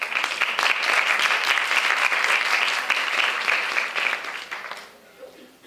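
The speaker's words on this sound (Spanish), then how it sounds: "con un aplauso recibimos a Sara" An audience applauds to welcome a speaker at a Día Internacional de la Niña y la Mujer en la Ciencia event, steady clapping for about four seconds, then fading quickly to quiet.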